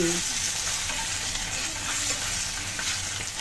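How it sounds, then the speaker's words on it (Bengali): Eggs frying lightly in hot oil in a pan, a dense continuous sizzle heard up close with faint stirring underneath. "তো ডিমগুলো আমি হালকা করে একটু ভেজে নিলাম"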